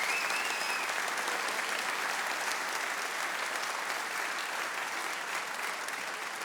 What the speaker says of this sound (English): A big round of applause for all our volunteers tonight and through the rest of the festival